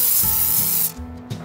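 Foam sprayer coating the door of a Daihatsu Rocky during a car wash, a steady close hiss of spray that cuts off near the end, followed by faint rubbing and handling noises.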